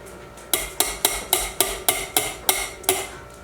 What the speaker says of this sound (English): With your masher. Mash it.